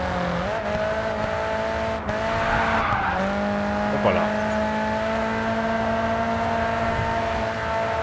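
A race car in the video game Race Driver GRID 2 skids with long tire squeals over a steady engine drone, loud and close, while someone speaks briefly.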